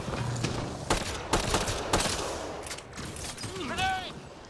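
Gunfire in the video game 007 First Light, a string of sharp, loud shots at irregular intervals, close, followed by softer clattering and a brief rising tonal effect, with a voice speaking briefly between them.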